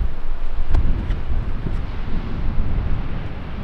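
Wind blowing across a golf course, buffeting the microphone in loud, uneven gusts with a low rumbling roar and a couple of faint clicks.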